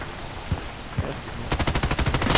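Machine gun fire in the video game Contract Wars: a few scattered single shots, then a fast, loud rhythmic burst of about ten rounds in the final second.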